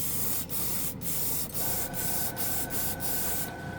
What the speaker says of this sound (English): so let's spray it on that.